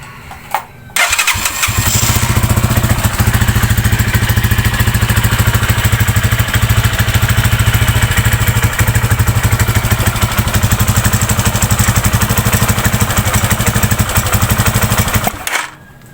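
A warm motorcycle engine with a fault idles steadily and loudly for about fourteen seconds, a dense continuous rumble with a faint rattly clatter, starting abruptly after a second of quiet and cutting off near the end.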